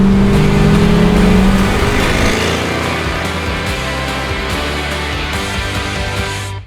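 A 1967-1969 Chevrolet Camaro V8 engine roars loud and close in one sustained rev that slowly settles before cutting off abruptly, with no voices.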